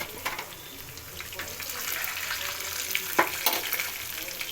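Dried red chillies sizzle in hot tempering oil with a steady, close crackle and occasional sharper spits, a faint voice murmuring in the background.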